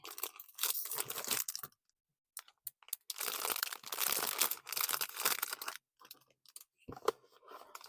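A plastic bag holding a Hobby Lobby yarn craft kit is opened up close, with bursts of loud crinkling and rustling broken by short pauses.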